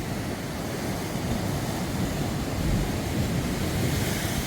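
Ocean waves surge through a rock arch in a continuous broad roar, with gusty wind buffeting the microphone, on the Pembrokeshire coast near St Govan's Chapel, Wales.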